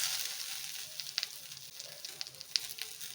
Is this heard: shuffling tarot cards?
no